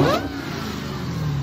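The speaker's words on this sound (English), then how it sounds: "This Hellcat swapped Honda Accord may whine louder than an actual Hellcat." A Hellcat-swapped Honda Accord revs with a rising supercharger whine over a loud, steady engine roar, heard close and alone for a brief moment.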